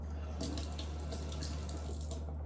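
A kitchen sink tap runs while hands are rinsed, a steady soft stream of water under a low background hum, faint and continuous with no talk.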